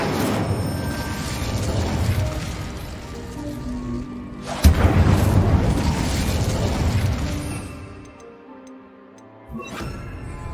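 The Incendio fire spell is cast in Hogwarts Legacy, a dense whooshing burst of flame layered over game music, with a sharp second burst midway before it fades out.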